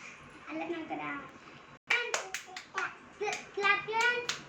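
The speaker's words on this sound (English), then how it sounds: "clap your hands." Hand claps at a one-year-old girl's birthday: a run of sharp, close claps in irregular bursts, mixed with a small child's babbling and adult voices.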